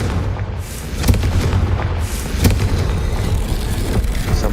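The Confringo fire spell from Hogwarts Legacy bursts in a loud, dense rumble, with heavier booms near 1.1 and 2.4 seconds over a constant roar, and no talking.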